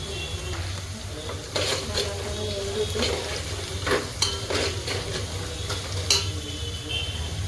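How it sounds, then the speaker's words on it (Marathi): Kasuri methi dropped into hot oil for a tamarind dalcha: continuous close sizzling with occasional spoon taps and scrapes against the pot, steady and moderately loud without any voice. "इथं मी घेतलेले कस्तुरी मेथी ते तेलामध्ये टाकते"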